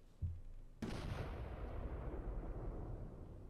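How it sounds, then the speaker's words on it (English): An explosion in a Roblox game bursts out sharply after a brief thud, then rolls on in a loud, sustained rumbling roar. "that thing exploded!"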